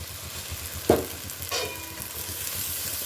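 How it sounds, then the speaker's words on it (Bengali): Spices and whole peas frying in a pan, soft sizzle with a couple of stirring scrapes, quiet and close with no talk. "এবার ভালো করে মশলাগুলো সবগুলো একসাথে কষবো।"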